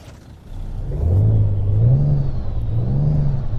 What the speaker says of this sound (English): There's the Cummins engine.